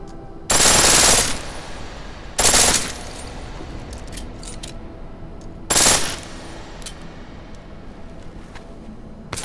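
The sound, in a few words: pistol firing on full auto in Deus Ex video game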